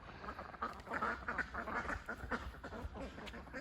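Ducks quacking at a pond, a busy cluster of overlapping nasal quacks and honks that carries on without a break, moderately close but quiet.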